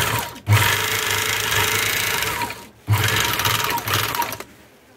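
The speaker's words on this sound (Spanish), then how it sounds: "Está cosiendo bastante bien." A Zoje bag-closing sewing machine stitches a chain stitch in two loud, steady runs with a brief stop between them, the needle's rapid rhythmic chatter close and alone.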